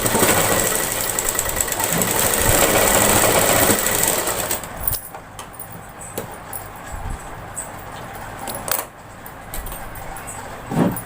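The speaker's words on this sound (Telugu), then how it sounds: "దీనిపైన స్టిచ్ వేస్తున్నా చూడండి" A sewing machine stitches a blouse dori, its rapid mechanical whirr running steadily for about four seconds before stopping, followed by quieter handling clicks and rustles.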